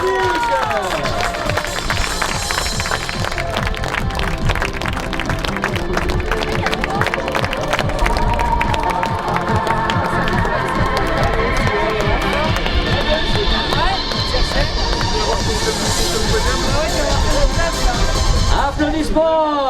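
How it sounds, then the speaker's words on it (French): A crowd at a youth and senior category prize-giving after the 2019 Saint Point triathlon claps steadily for about twenty seconds, dense and busy, with some cheering and crowd noise mixed in throughout. "Applaudissements"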